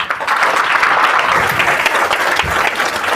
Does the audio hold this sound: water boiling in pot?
no